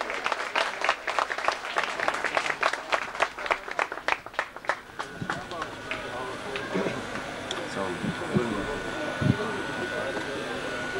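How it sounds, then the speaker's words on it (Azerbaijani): A wedding audience claps for Namiq Ates in a dense burst of applause that thins out and fades, giving way to room murmur and voices. "Gəlin vətənimizin gözəl bir oğlu, məclisin bəyi, ağsaqqalı, ata yurdunun şam çırağı olan Namiq Atəşə əl çalaq"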